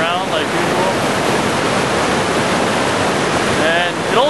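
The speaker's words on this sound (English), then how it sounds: "Got the waterfall in the background right there." A waterfall on the Golden Ears Park trail roars as a steady, dense wash of rushing water, loud and constant throughout, with some wind buffeting the microphone.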